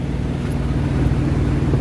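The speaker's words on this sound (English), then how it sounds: "It sounds like it's the truck behind him that's on." A parked truck sits idling behind a man at a convoy stop in rainy weather, a low, continuous engine rumble that stays steady and fairly close throughout.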